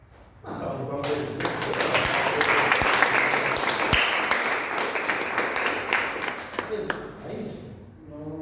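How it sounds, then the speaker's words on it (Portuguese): A church congregation at an Easter service breaks into a loud round of applause that swells after a brief quieter start, holds steady, then tapers near the end, with some voices mixed in. "Uma salva de palmas."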